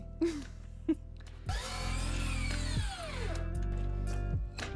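A power saw cuts exterior house trim pieces in a few bursts, whining loudly as the blade spins up, bites through the wood and runs down again, after a couple of sharp knocks beforehand.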